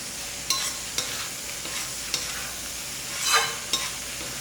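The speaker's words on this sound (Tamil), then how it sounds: "இப்போ எல்லாத்தையும் நல்லா இந்த மாதிரி கலக்கி விட்டுடலாம்." Goat head curry being stirred in a pan, with a spoon scraping and tapping the pan in regular strokes about every half second over a soft, steady sizzle, close and alone.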